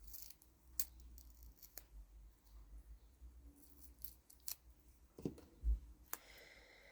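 Scissors snip foam tape in a quiet room, several soft, sporadic cuts and clicks close by, spaced irregularly, with a louder thud near the end.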